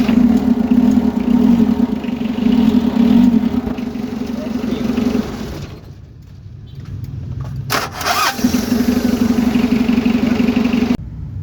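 A Mitsubishi L300 van's 4D56 diesel engine runs loud and close after a starter bendix drive repair, with a rough steady clatter that drops off briefly partway through and then returns just as strong.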